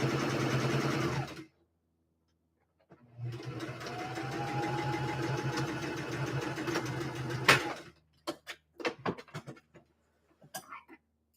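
A sewing machine runs in a steady stretch of several seconds while stitching a vest, close and even in tone, followed by a few sharp clicks and taps of handling the fabric and machine.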